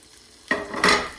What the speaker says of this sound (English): And let those sear together just for a minute before you add your gnocchi